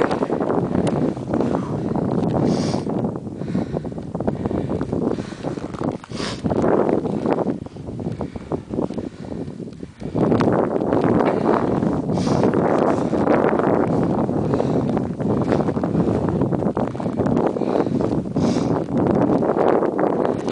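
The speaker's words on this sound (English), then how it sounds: "There's a nice headwind. It's coming from the north." A cold north headwind buffets the microphone outdoors during a run, a loud, continuous low roar and rumble that swells and dips in gusts for the whole stretch without talk.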